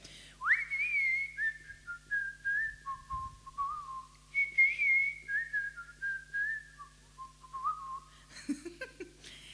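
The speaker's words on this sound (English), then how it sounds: "If you ever have to whistle into a mic, do it sideways." A person whistles the simplified flute motif from "You Can Call Me Al" alone, in two clear, bright phrases of stepped descending notes, close and steady, ending with a brief rustle.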